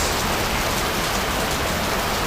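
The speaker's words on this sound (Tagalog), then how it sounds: "Lakas ng ulan" Heavy rain pours down steadily, a dense, loud hiss of drops drumming on a surface with no letup.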